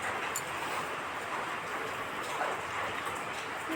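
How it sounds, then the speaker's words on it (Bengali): Heavy rain pours outside a home kitchen, a steady, even hiss that runs unbroken and fairly soft throughout. "বাইরে কিন্তু বৃষ্টি হচ্ছে প্রচুর"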